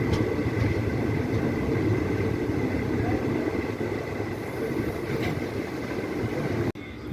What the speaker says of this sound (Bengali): ট্রেন এখন এসে পৌঁছলো তার যাত্রাপথের চতুর্থ স্টেশন বোলপুর শান্তিনিকেতনে